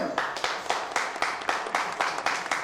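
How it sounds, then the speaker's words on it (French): Audience at a magic show applauds the assistant Laura, a brisk burst of steady clapping from several people, rhythmic and fairly close, with no talk over it. "on peut applaudir bien fort Laura"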